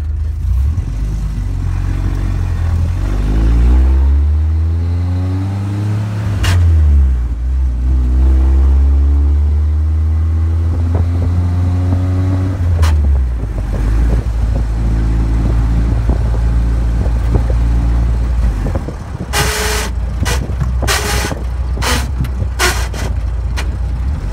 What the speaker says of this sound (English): You'll hear we have a horrible exhaust leak that'll get fixed when we do the transmission